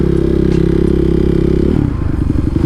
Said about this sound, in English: It's nice to romp around the city streets on a Supermoto though.